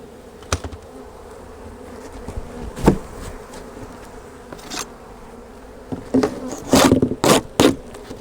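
Honey bees in a disturbed hive, rearranged during a spring hive rotation, keep up a steady buzzing hum broken by several sharp wooden knocks and scrapes of hive equipment, with a busier cluster of clunks near the end.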